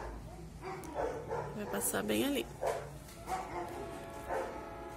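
Dogs bark in short bursts with a yip or whimper among them, moderately close in a residential area near a train line, mixed with a person talking over them.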